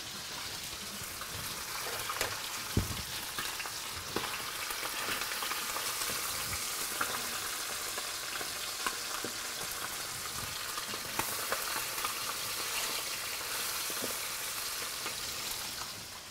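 Steady, dense sizzling of chicken breast browning in a very hot pan, continuous and close, with occasional pops and soft scraping.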